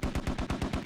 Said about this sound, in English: MTLB rounds hitting the building, suppressing.